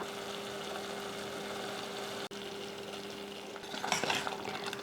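Quiet scraping of a metal ladle mashing soft food in a pot over a steady hum, with a brief louder burst of scraping near the end.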